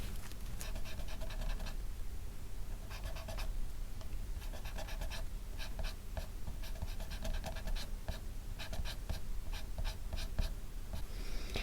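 Pencil strokes on paper draw fine hair strands, quick close scratchy bursts of varying length repeating irregularly over a soft constant background hiss.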